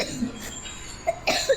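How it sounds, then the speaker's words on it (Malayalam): A few short coughs from a person, with a soft one early and two or three sharper bursts near the end, close to the microphone with no talking. "സോറി ഗൈസ്, കുറച്ച് ചുമയുണ്ട്"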